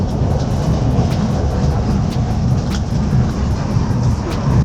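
Reunification Express train in Vietnam running on the line, a loud continuous low rumble with faint regular rail clicks, heard from inside the moving train.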